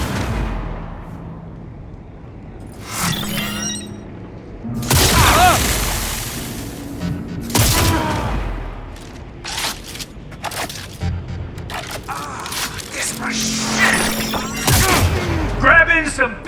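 Shotgun fire in the game Cyberpunk 2077: Phantom Liberty, with repeated loud, close blasts and booms arriving in irregular bursts through a busy combat mix.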